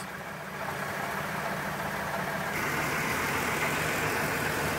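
A van's engine runs rough just after starting, with a steady mid-pitched idle and a faint uneven knock. It swells slightly louder partway through and carries on without voices.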